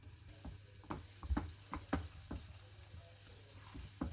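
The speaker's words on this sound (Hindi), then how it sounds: "सूजी हमारी भुन गई है।" Semolina roasting in ghee for dried fig halwa, a quiet soft sizzle with scattered spoon scrapes and taps against the pan, heard close and alone.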